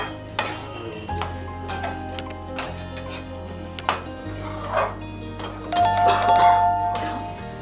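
A fish-head curry with garam masala sprinkled in is stirred in a pot, giving several separate metallic clinks and scrapes of a spoon against the pan over a steady low hum, with a dog faintly barking.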